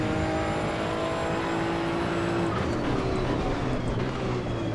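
The Maserati GT2 race car in Assetto Corsa EVO drones steadily from an exterior view, a constant engine hum with faint whining tones shifting pitch partway through.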